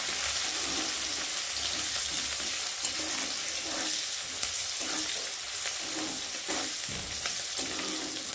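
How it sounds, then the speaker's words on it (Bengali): Chopped onion frying in hot oil for muri ghonto makes a loud, even crackling sizzle, with occasional stirring scrapes rising and falling under it and no talk. "এর মধ্যে এবার একটু পেঁয়াজ দিয়ে দেবো, কুচানো পেঁয়াজটা। একটু ভালো করে ভেজে দিই।"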